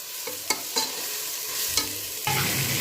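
Ginger garlic paste sizzling in a pan for a gongura chicken biryani, a steady close fry broken by a few sharp stirring clicks of the spoon, no talking.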